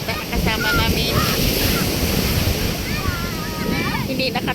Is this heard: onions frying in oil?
no